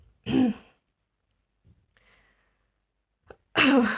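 A single loud, close sneeze, with a second sharp sneeze-like burst at the end and only faint rustles in the quiet between them.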